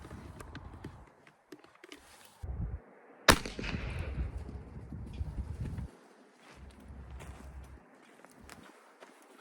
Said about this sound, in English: the first ones I'm gonna shoot is the 240 grain XTP